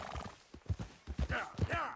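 Horse hooves clip-clopping at a gallop in Red Dead Redemption 2, a quick rhythmic run of thuds up close, with a brief whinny and a voice over it.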